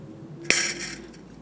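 Wire cutters snip through wire on a wire-wrapped cabochon pendant, a single sharp metallic click followed by a brief ringing tail in a quiet room.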